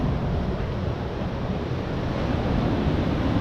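Ocean waves surge steadily against a rocky shore at high tide, a continuous loud broadband wash with wind buffeting the microphone and no distinct breaks between swells.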